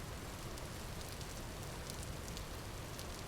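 Steady rain in the survival video game Vintage Story, a dense, even hiss of falling water with scattered drip-like patters, constant and unbroken with no voices.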